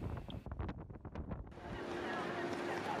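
Gusty wind in Venice on a stormy, rainy day, first choppy bursts and then a steady broad rush of wind noise filling the rest, close and fairly loud.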